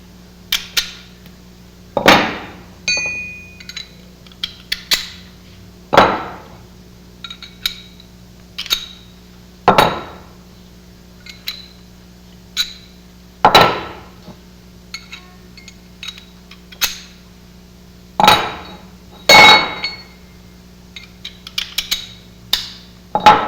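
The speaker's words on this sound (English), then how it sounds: "now we're going to go ahead and assemble the rods and caps" Metal connecting rods and their caps being assembled on a bench: sharp, close clinks and taps of metal parts knocking together, spaced irregularly over a steady low hum, with no speech.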